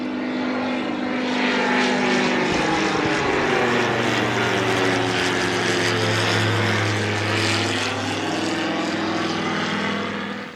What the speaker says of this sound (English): I want to get the drone out. Fly the drone around.